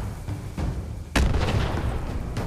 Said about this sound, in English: Who the fuck is throwing grenades at me?